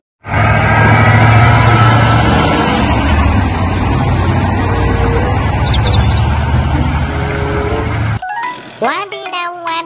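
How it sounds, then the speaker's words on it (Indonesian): A truck carrying an excavator rumbles loud and close in a steady drone, then cuts off near the end as a voice speaks over the last moments. "ada truk muat ekskavator"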